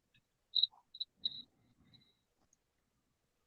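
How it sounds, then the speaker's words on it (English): A handful of thin, high chirps from crickets, brief and isolated against near silence, with a faint low murmur in between. "Why we got crickets?"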